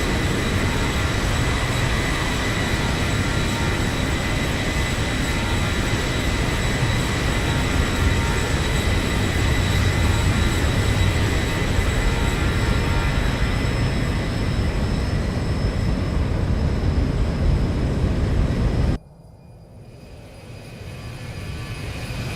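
A simulated Zibo Boeing airliner in X-Plane 12 roars past in a flyby on a short Stavanger to Bergen flight. The loud, steady engine drone holds for about nineteen seconds, then cuts off abruptly to a quieter hum.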